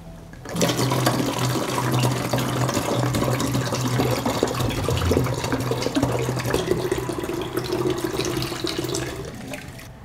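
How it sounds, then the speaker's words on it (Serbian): Water is poured into a 2-litre bottle holding milk to dilute it, producing a continuous, fairly loud gushing stream that runs for about nine seconds before stopping. "Mleko ću razrediti sa 2 litre vode."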